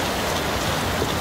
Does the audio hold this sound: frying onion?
no